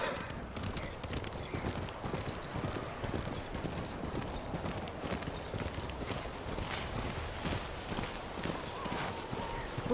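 A horse gallops through snow in Ghost of Tsushima, its rapid hoofbeats running continuously under a dense wash of wind, music and game effects, with characters talking over it.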